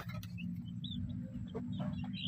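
A young chicken clucking softly a few times over a constant low hum, quiet and close, with no talking.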